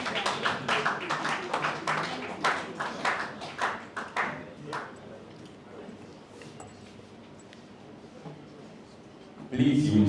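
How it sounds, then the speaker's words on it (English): A small audience claps at a debate event, a brief, uneven round of applause with distinct separate hand claps that fades out after a few seconds, followed by quiet room tone and a burst of noise at the end. "A round of applause for him,"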